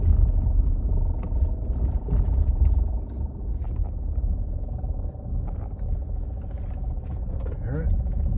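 Inside a Mercedes X166 SUV while driving, a low droning rumble with a faint whirring tone persists beneath cabin road noise, a fault noise that shifts with vehicle speed.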